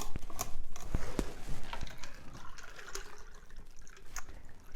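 A pineapple margarita made with pineapple juice is poured through a cocktail strainer. Faint liquid splashing and trickling mix with small clicks and knocks, close by.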